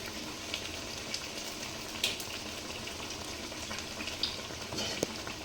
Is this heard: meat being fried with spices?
yes